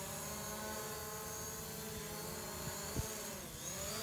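A DJI Mavic Pro quadcopter drone flies nearby with a steady, high-pitched motor whine and buzzing propeller hum. The sound holds fairly even for a few seconds, with a slight dip and pitch shift near the end.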